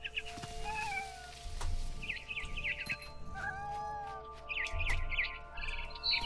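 A cat meows and yowls in the video game What Remains of Edith Finch, several drawn-out, wavering cries near and fairly loud, mixed with chirping bird calls over a soft musical background, with no talk.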